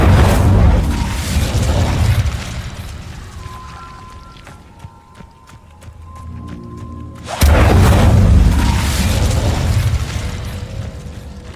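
Incendio and Confringo spell blasts in Hogwarts Legacy on PS4 Pro: a loud explosive roar that fades into quieter mechanical clicks and tones, then a second sudden heavy blast that rumbles on close up.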